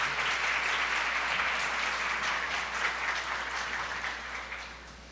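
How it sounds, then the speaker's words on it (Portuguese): A church congregation applauds to welcome a pastor to the pulpit, a dense, loud wash of clapping that holds steady and then gradually fades toward the end. "Eu queria que você me ajudasse a receber, aplaudindo o Senhor pela vida da pastora Chayane."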